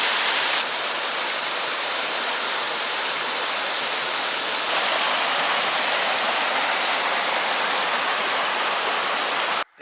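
A waterfall on the Amargosa River in the desert near Tecopa roars as a steady, dense, loud rush of water that continues unbroken with no talking.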